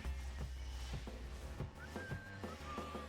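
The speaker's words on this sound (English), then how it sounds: "It's very similar to whistling, whatever they did for the sound chip there." A whistling sound effect from Phantasy Star Online, made by a game sound chip, glides up and holds a clear tone over pulsing, beat-driven game music, with no one speaking.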